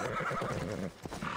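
A horse in the Assassin's Creed Odyssey video game lets out a loud, close whinny with a wavering pitch, followed by a brief hoof sound.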